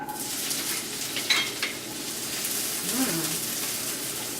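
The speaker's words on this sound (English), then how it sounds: "So you heat up a couple of tablespoons of olive oil. Add your onions." Onions sizzle in a couple of tablespoons of hot olive oil, a steady close crackling hiss with a few light clinks of utensils and faint speech briefly underneath.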